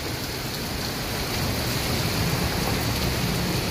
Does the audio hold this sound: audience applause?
no